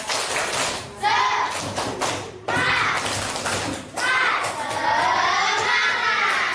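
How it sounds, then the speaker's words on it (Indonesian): A classroom of students performs a rhythmic spirit clap, with bursts of loud, patterned claps and thumps mixed with children chanting and shouting along throughout. "Tepuk semangat dulu dong, tepuk semangat."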